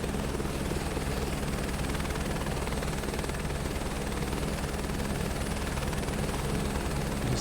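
A helicopter in flight on a scenic ride along the Lahaul and Spiti loop gives a loud, continuous rotor thrum and engine drone, heard steadily from inside the cabin throughout.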